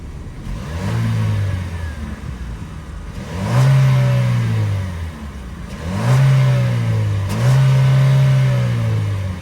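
A 2024 Chevy Equinox RS's 1.5-liter turbo four-cylinder is revved repeatedly, rising and falling in four close, loud bursts with a whirring tone between blips.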